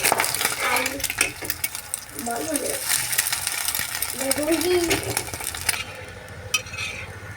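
An egg frying in a pan and being stirred, with busy clattering scrapes and rattling stirs over a sizzling bed, while a voice speaks briefly in the background.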